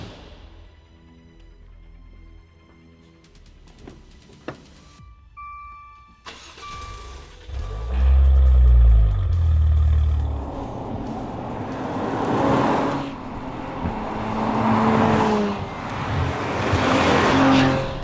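A 2017 Maserati Levante S with its Ferrari-built petrol engine starts after quiet clicks, then barks into loud, deep revving that rises and falls, with later blips close by and no talking.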